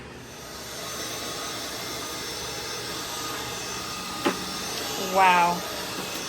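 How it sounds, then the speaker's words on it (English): AlloyMove cordless vacuum cleaner running steadily while picking up hair from the floor, a constant close motor whine with a brief sharp pickup rattle and a short rising tone near the end, a speaker's exclamation heard once. "So let's see how this vacuum does"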